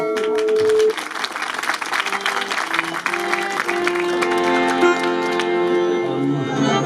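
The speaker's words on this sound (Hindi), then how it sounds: "जरा आपकी तालियां हमें बताएंगे" An audience at a live program breaks into sustained applause, dense and loud clapping from a large crowd holding steady for several seconds, with a voice and some tonal sounds over it.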